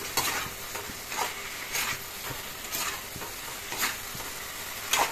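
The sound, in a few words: fish frying in a pan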